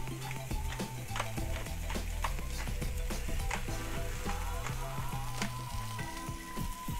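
Steady sizzling and crackling of potatoes frying in a hot cast iron pan, with occasional scraping and clinks of a utensil stirring.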